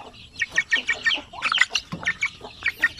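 Chickens kept as backyard breeder stock cluck close by in quick, choppy bursts. The calls overlap almost continuously, with a few louder squawks mixed in.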